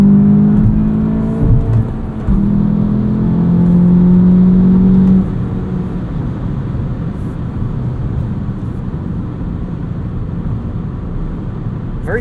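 A 2022 Volkswagen Jetta GLI with a six-speed manual cruises at highway speed, its engine and road noise forming a steady, close cabin drone that is loud at first, then settles slightly lower and remains continuous throughout.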